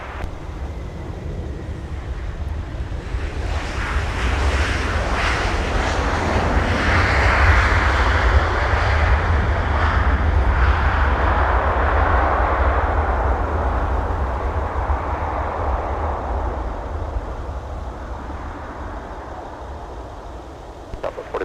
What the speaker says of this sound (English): here comes Southwest with a 737